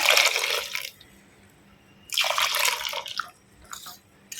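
Gram flour and water batter poured into a pan for Bombay chutney, heard as two wet, splashing pours separated by a quiet pause, followed by a few smaller trickles and drips, close by with no talking.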